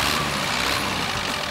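A small red tractor engine runs steadily while reversing slowly, a close, continuous mid-pitched rumble with no clear breaks.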